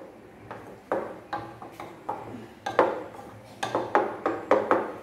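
Sliced plantain is stirred with jaggery in a pan, a spoon knocking and scraping against the metal in a steady series of close clinks and scrapes.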